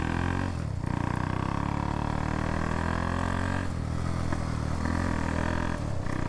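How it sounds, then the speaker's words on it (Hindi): A loud, rumbling motorcycle engine fitted with a loud silencer idles and revs close by, its throaty exhaust pulsing continuously with brief dips. "तो इसकी आवाज़ काफ़ी ज़्यादा है बाइक की, इसका साइलेंसर जो है वो आवाज़ वाला लगा हुआ है"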